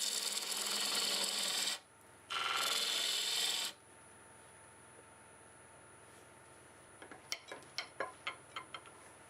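A parting tool cuts sequoia wood spinning on a lathe in two loud, close, hissing bursts, each a couple of seconds long, followed by quiet background hum and a series of light ticks and taps.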